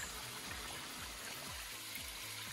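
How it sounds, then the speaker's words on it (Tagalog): A small stream trickles steadily with a broad, even wash of water, soft and continuous, with no voices. "Ito may maliit na sapa."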